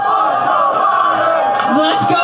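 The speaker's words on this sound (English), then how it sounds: "as you can hear the chants from the crowd" A NASCAR crowd chants together as a dense, steady roar, heard under a close voice talking throughout.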